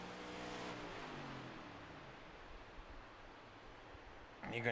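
A Next Gen Series race car at Kentucky, its engine shut off, rolls quietly around the bottom of the track, leaving only a soft broadband rush of tire and wind noise after a brief fading engine tone at the start.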